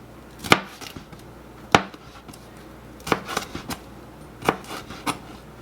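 Bell peppers cut into strips with a knife on a cutting board, sharp separate chops spaced irregularly, some single and some in quick pairs, close and clear.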